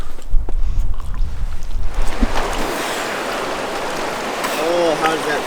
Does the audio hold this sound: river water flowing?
yes